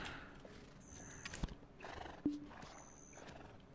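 A horse in the video game Black Desert Online gives a couple of whinnying neighs over a low hum of ambient game sound, with a few hoof thuds and one sharp knock.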